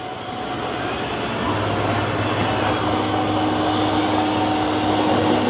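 A robot vacuum-mop runs steadily across the floor in a close mopping pattern, giving a loud, constant whirring motor hum with a low drone that rises slightly and holds throughout, with no talking.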